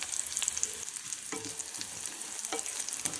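Green chillies and cumin seeds frying in hot oil after garlic in a pan, a steady close sizzle with a few spoon scrapes and light crackles, no voices.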